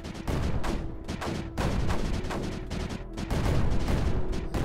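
Mortar and cannon fire in the tower defense game Creeper World 4: a dense, continuous barrage of overlapping booming shots and bursts, loud and sustained with no talk.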